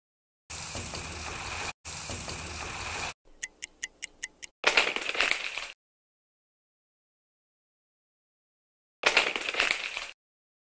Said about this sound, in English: Sound is clock ticking.